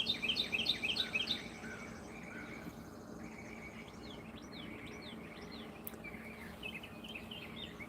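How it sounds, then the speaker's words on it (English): Birds chirp and trill in an outdoor setting at dawn. A brighter burst of song opens the passage, followed by scattered, fainter calls over a steady hum of ambient noise. "You guys listen to the birds for a couple of minutes."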